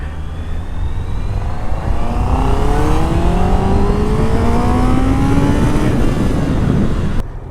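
A 2021 Honda CB650R inline-four motorcycle engine revs hard and climbs steadily in pitch, loud and close, with a smooth continuous drone before cutting off near the end.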